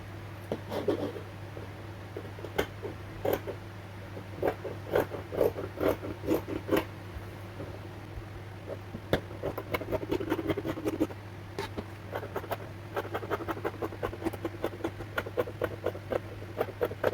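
Scissors snip through fabric while a tulip petal sleeve piece is cut out, a run of soft, close crisp cuts and rustles with short pauses, steady low hum beneath, no talk.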